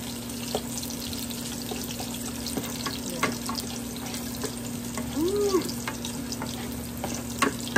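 Pork boils and fries in a pot for Filipino kare-kare, a steady sizzle and bubbling with occasional stirring clinks and a faint background hum.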